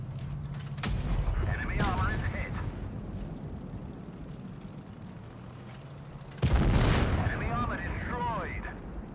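Tank cannon fire and shell hits in World of Tanks Blitz: two heavy booming blasts several seconds apart, each followed by rumbling decay, with voices talking over the game sounds.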